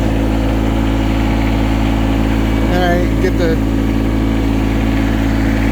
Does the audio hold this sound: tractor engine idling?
yes